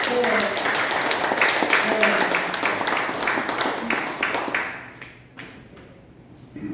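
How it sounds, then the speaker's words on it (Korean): A seated audience at a forum on the Korea–US alliance bursts into applause, with many hands clapping loudly and steadily before the sound tapers off and fades. "크게 박수 쳐주십시오."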